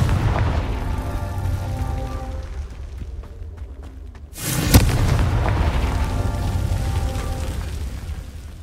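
Confringo spell blast in the video game Hogwarts Legacy, a single loud booming explosion with a sharp crack, ringing out over a low rumbling game background, no speech.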